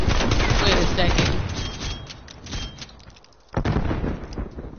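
Video game gunshots in a loud, rapid volley, then fading, a brief near-silent gap, and a second burst of shots.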